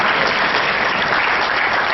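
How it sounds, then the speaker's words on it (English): Steady, loud applause from an audience at the World Summit Awards 2013 opening ceremony in Colombo, a dense wash of clapping hands with no voices heard. "One more round of applause."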